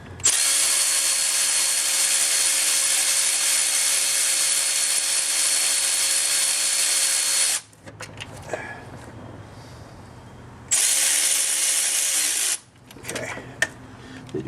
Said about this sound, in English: you are drilling a fine thread bolt into an aluminum housing